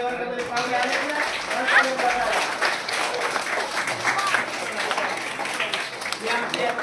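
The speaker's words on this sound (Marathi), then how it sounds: "एकदम जोरदार टाळ्या वाजवा" Students standing in a classroom at a Marathi-medium district school clap loudly for visitors, a thick continuous burst of many hands with voices and shouts mixed in throughout.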